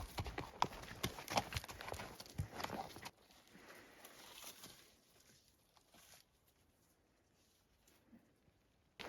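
Horse hooves clop on the ground in an uneven walking rhythm in the Rockies, fairly clear at first and then fading to faint steps in the distance.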